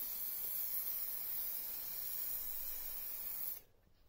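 An aerosol can sprays lacquer over gloss black painted plastic trim from a Fiesta ST180, giving a continuous, even hiss for several seconds that then stops abruptly.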